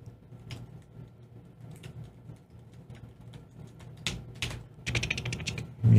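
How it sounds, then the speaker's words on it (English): Typing on a computer keyboard, a quiet run of irregular clicks close to the microphone against a low background hum, with a louder burst of keystrokes near the end. "You hear me typing."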